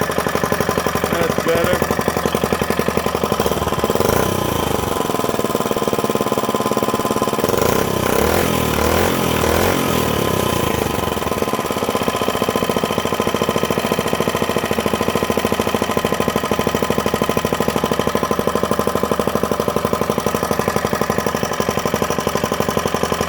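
Small minibike engine running steadily as it warms up, a loud, continuous buzzing drone with a brief rise around the middle, and a short spoken remark over it.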